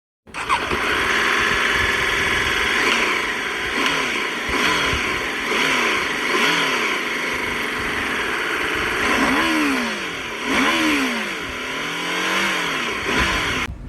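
A BMW F 450 GS motorcycle engine revs repeatedly, rising and falling in loud bursts over a steady idle, close by and continuous.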